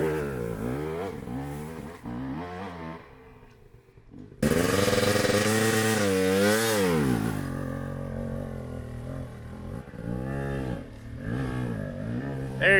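An enduro dirt bike climbs a slope with the clutch slipping, its engine revving in rising and falling sweeps, then surging into a loud sustained roar as it passes close, after which the revving wavers and fades back.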